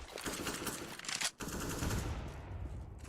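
Pistol gunfire during a Counter-Strike esports match: rapid bursts of shots crackle over a dense, busy game soundscape, with a brief dip in the middle before the firing resumes.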